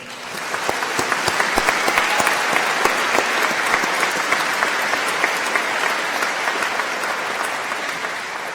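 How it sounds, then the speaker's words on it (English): An audience at an afternoon commencement ceremony claps in a long, dense round of applause, with many sharp individual claps standing out against a steady roar that stays loud and even throughout. "Let's give them a round of applause."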